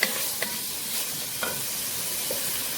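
Diced green pepper fries in oil in a pan as a steady sizzle, broken by a few light scraping stirs and taps.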